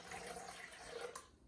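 About 360 of lukewarm water, mixed from cold tap water and hot kettle water, pours into a Thermomix bowl in a short, steady splashing trickle that cuts off near the end.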